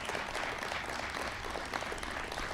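Steady, even applause from a crowd, apparently canned or staged, filling the short moment at moderate loudness without any talk.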